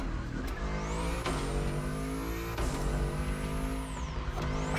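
A Bugatti engine in the racing game The Crew Motorfest roars loudly and continuously, rising and falling through gear shifts with a high whine, up close and without talk.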